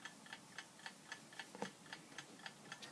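A 1950s Equity alarm clock ticks steadily, each faint, even tick evenly spaced and close by against a quiet room.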